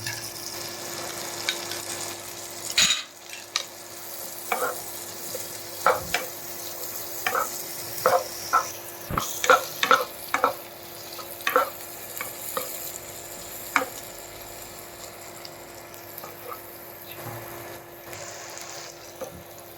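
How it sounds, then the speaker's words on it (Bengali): Chopped onion and capsicum frying in a pan after garlic, a soft steady sizzle under a run of crisp spatula taps and scrapes, some louder thumps early on, and no one talking. "পেঁয়াজটা ভালো করে ভেজে নেব।"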